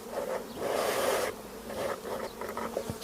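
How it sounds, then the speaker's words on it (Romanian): Honeybees buzz around an opened hive on a warm, sunny spring day, a dense, close droning hum that swells and dips as individual bees pass near. "m-am gândit să deschid un stup"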